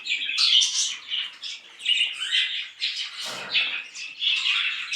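Parrot chicks and their parents squawking near the microphone, a rapid series of loud, harsh, overlapping calls with brief pauses, in an indoor bird-keeping room.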